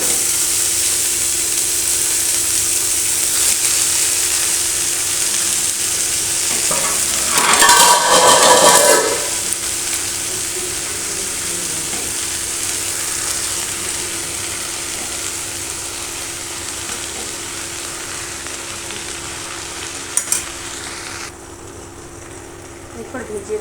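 Garlic, panch phoron spices, dried and green chilies fry in a pan with a steady broadband sizzle, then a louder burst as chopped jute greens hit the hot oil, hissing on before easing back to a softer fry.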